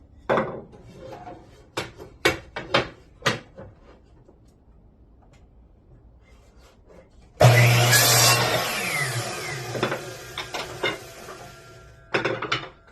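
A hand saw cuts through wooden dowel pins being trimmed to length for ladder legs, a loud continuous rasping burst starting partway through after scattered knocks and handling noises, then a few short strokes at the end.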